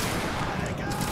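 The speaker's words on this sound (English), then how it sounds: "Present once you have your shot. Prepare to fire." A musket volley in a Waterloo battle video game sounds as a dense, rolling crackle of many overlapping shots, loud and continuous through the whole brief moment.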